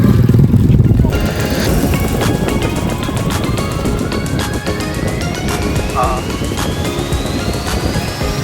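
A small habal-habal motorcycle taxi engine drones steadily nearby, its pitch slowly rising as it revs and pulls away, with open-air road noise around it.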